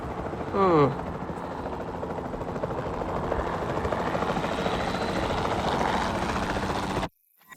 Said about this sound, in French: la meilleure chose à faire serait de l'endormir depuis les airs avec un hélico de capture